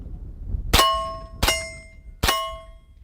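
Three sharp pistol-carbine shots ring off steel targets at roughly even intervals, each a crisp metallic clang with a bright, lingering ring, heard alone without talk.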